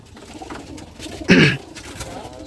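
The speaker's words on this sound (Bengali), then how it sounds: "ভাইয়ের কবুতরের খামারটা হচ্ছে এই" A Jalali pigeon at a pigeon farm gives a single short, throaty coo close by, standing out briefly over a quiet background murmur.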